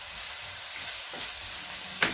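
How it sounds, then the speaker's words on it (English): Vegetable rice frying in a pot while being stirred, a steady close sizzle with soft scraping stir strokes and a sharp clink near the end. "We stir it together, continue stirring it, you continue stirring it together because you won't like it to burn."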